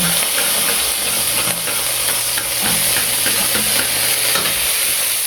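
Onion and garlic sauté in annatto oil with a loud, constant close-up sizzle and hiss, accompanied by repeated stirring scrapes and no talking.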